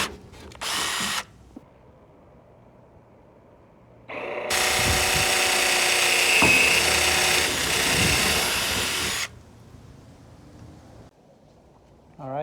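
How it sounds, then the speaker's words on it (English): Power drill boring holes into Voltex Type 2 wing brackets for a Honda S2000, a loud steady whine of about five seconds with a shorter drill burst near the start, close to the microphone. "we already marked up the brackets where we're gonna drill the holes right now"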